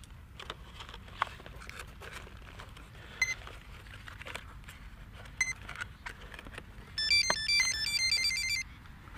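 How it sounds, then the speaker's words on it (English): Flight controller buzzer on a Matek H743-Wing running Ardupilot, giving brief isolated beeps and then a quick run of rapid tonal bleeps near the end, fairly faint over a low background hum. "Let's turn the buzzer on too."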